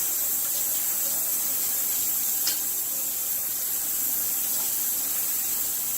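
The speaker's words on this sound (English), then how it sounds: "we're going to use cold water and give them a good rinse." Cold tap water runs steadily over comfrey leaves in a strainer, a continuous hissing spray with faint splashes, close by and without speech.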